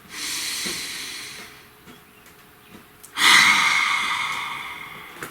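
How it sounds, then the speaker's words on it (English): A long, deep breath is drawn in and then let out in a loud, hissing exhale, close to the microphone, with no talking. "Please take a nice deep breath."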